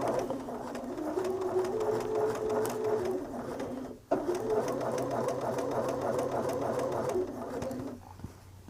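A sewing machine stitches a quarter-inch quilt seam with a steady mechanical hum and rapid needle chatter, pausing briefly midway and then running on again before slowing to a stop.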